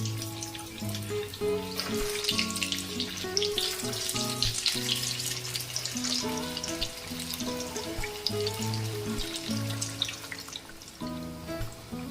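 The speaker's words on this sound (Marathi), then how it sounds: "गॅसवरती वड्या तळून घेतल्या तर आतून कच्च्या राहतात त्यामुळे बारीक गॅसवरती तळून घ्यायच्या" Coriander vadis deep-frying in oil over a low gas flame give a continuous, dense crackling sizzle, close and steady throughout, with a hum of kitchen background beneath.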